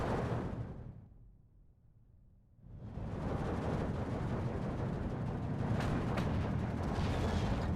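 Mortar artillery in Steel Division 2 firing and impacting at a distance, producing a dull rumble that dips briefly and then swells into a steady wash of distant explosions.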